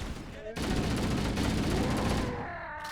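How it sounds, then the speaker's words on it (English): Rapid, sustained automatic fire from an inaccurate machine gun in Halo: Combat Evolved, a loud continuous burst that starts abruptly and runs for about two seconds before tapering off. "shoot them in their midsection with this rapid-fire, inaccurate machine gun"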